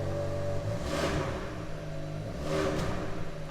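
A 2021 Hyundai i20 N's engine revs hard from the driver's seat with the clutch down. A steady mid-pitched hum rises into two loud swells of revving, at about one and two and a half seconds.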